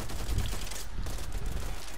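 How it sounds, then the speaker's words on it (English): Rapid gunfire from a video game, with pistol shots fired repeatedly in a dense, continuous burst of bangs lasting the full two seconds, loud and close. "I'm also using my pistol like crazy."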